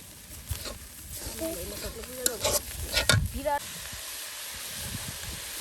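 Vegetables for a curry are stirred and fried in a pan outdoors, a soft sizzle with scraping stir strokes and clinks, fairly quiet, with a voice talking over part of it.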